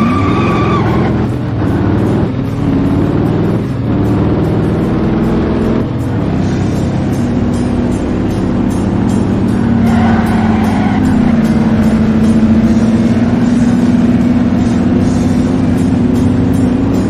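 Mustang race cars idle and rev at the start of a city highway duel in a racing video game. A loud, continuous engine drone swells with rising rev tones. No one speaks.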